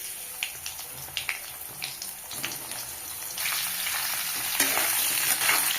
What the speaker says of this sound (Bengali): আলু হালকা ভেজে নেব বন্ধুরা।